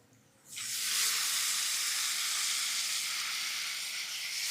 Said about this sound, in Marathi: हे जे धुतलेले हुलगे आहेत ना ते आपण या फोडणीमध्ये टाकून घेऊयात